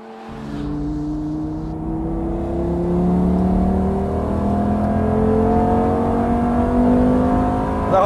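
A Lamborghini Gallardo engine accelerating on the Sachsenring track, a loud, sustained rising roar that climbs through the gears with no talk over it.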